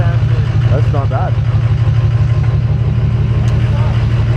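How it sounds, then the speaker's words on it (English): Steady low diesel truck rumble with exhaust stack drone at highway speed, a continuous cabin hum lasting throughout, with a few faint higher tones near the start. "How are the stacks sounding on the highway? They're really nice and quiet, actually."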